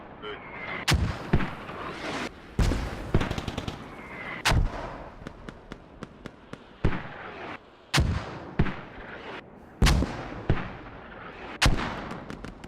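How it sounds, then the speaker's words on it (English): Mortar rounds thump and boom repeatedly in a competitive tournament match on the Kohat map, loud blasts arriving every second or so with sharp reports and some quicker clusters of smaller cracks between them. "Fear Academy using their mortars to kind of maybe suppress WhiteFox"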